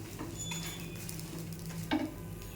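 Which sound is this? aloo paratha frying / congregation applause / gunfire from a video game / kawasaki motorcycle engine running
aloo paratha frying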